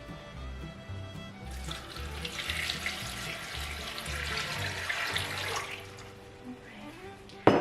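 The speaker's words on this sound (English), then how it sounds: "I'm gonna pour about a quart of water into the bottom" About a quart of water pours steadily into the bottom of an Instant Pot, a bright rushing splash that lasts several seconds before tapering off, with no talk.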